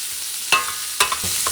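Salmon scraps are stirred and fried in a pan for paella, with a soft sizzle under a few distinct scraping strokes of a utensil.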